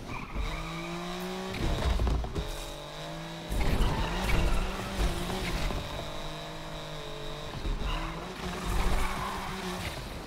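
Subaru BRZ drift build in Need for Speed Unbound sliding and spinning out, with engine revs rising and falling in repeated surges, tire squeal and skidding noise running through each slide, loud and close.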